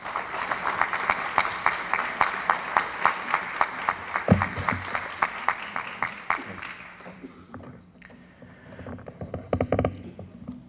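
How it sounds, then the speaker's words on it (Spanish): At an 80th anniversary ceremony of a national academy of sciences, the audience applauds a former academy president. Sharp, rhythmic claps fade after about seven seconds, then scattered claps and room noise follow. "a quien recibimos con un fuerte aplauso."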